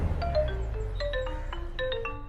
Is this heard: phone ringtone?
yes